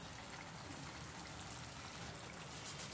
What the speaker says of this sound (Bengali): তারপর অ্যাড করছি জল।